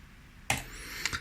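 A reversed recorded impact for cinematic sound design, heard as two quick swelling bursts that rise sharply and cut off, the second shorter, fairly quiet and with no talking.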